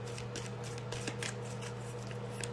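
Tarot cards being shuffled by hand, soft papery riffles and flicks in quick irregular bursts over a faint steady hum, quiet and close.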